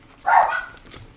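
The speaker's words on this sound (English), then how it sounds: "my dogs are busy today." A dog gives a single close bark that trails off into a brief whine, fairly loud against a quiet room.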